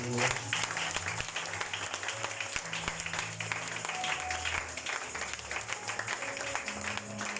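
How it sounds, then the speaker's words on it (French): A church congregation applauds for Jesus with sustained, dense clapping from a crowd, while voices and music continue underneath, steady throughout. "Acclamons encore pour Jésus."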